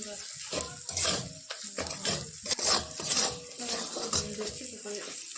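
Spice masala frying and being stirred in a pan for ghugni, with continuous close sizzling and repeated scraping strokes of a spoon against the metal, steady and busy throughout.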